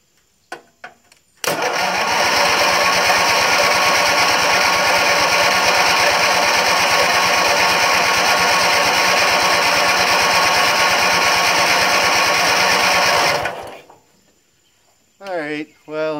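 Bolens 3014H garden tractor engine cranking continuously for about twelve seconds with a steady, rapid starter chug that never catches, loud and close, followed by brief speech afterward.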